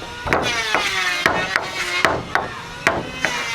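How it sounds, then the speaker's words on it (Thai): Small nails are hammered into wood on a house build, with about eight sharp, ringing strikes at an uneven, steady pace, close and loud over a constant background hum. "เนี่ยตะปูน้อยนี่ก็เลยตอกเลย"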